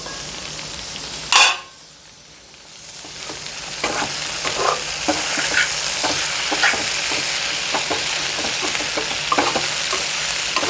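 Broad beans and fenugreek leaves cook in a pan, giving a continuous close sizzle and crackle after a sharp clatter near the start and a brief quieter dip as a lid goes on.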